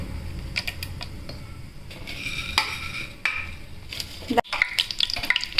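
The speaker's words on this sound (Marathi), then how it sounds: "तूप गरम झालेलं आहे आता त्यामध्ये मी दालचिनी ॲड करते थोडेसे काळे मिरे" Cinnamon and black peppercorns crackle and sizzle in hot ghee, a steady frying hiss broken by sharp pops, a metallic scrape of stirring and a clatter near the end.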